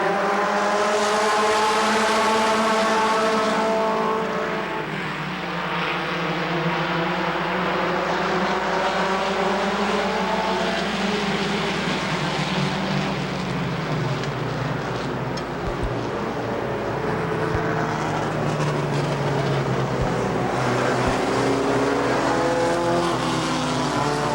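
Race cars roar away after the green flag at Rockford Speedway in 1996, a dense pack of loud engines whose rising and falling pitch sweeps steadily past for the full stretch, with no speech over it.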